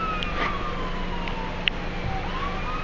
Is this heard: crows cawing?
no